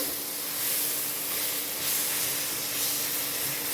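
Eggplant frying in hot oil for Bengali begun bharta, with fresh coriander leaves just added to the pan, gives a steady, even hiss and sizzle that holds close and constant throughout, with no voices over it.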